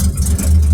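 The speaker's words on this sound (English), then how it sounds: "And then you stop, put it into neutral and turn the engine off." Daimler Ferret armoured car engine running at a low steady rumble as it is being shut down, loud and close, with a deep drone and no talking.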